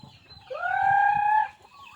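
A single rooster crow rings out clearly over soft, scattered clucking from chickens nearby.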